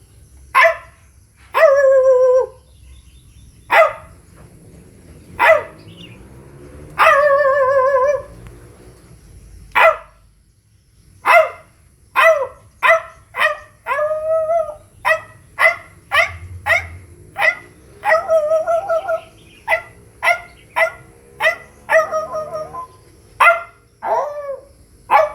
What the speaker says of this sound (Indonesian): Ini suara gonggong alias anjing